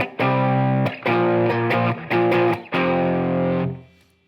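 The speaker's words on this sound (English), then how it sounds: "If I use a little distortion." Distorted electric guitar plays a series of sustained power chords, struck roughly every half second to a second, ringing loud and then fading at the end.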